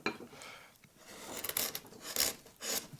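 A flat gouge or chisel cuts the corners off a stylised wooden tree during bosting in, giving short scraping, rasping strokes in quick bursts, close and fairly quiet.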